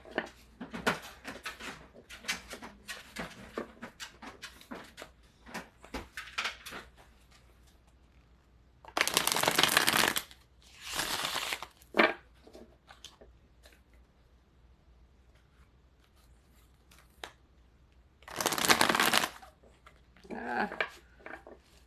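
A stiff tarot deck being shuffled: several short bursts of riffling cards, loudest around the middle and near the end, between softer handling taps and quiet pauses.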